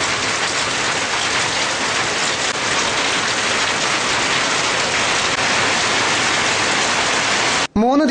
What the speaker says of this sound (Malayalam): 3 ദിവസമായി ശക്തമായ മഴയാണ് കടക്കൽ, ചിതറ, മടത്തറ മേഖലകളിൽ പെയ്യുന്നത്